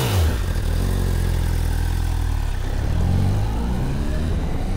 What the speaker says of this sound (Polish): jak jest na ssaniu, to strzela z wydechu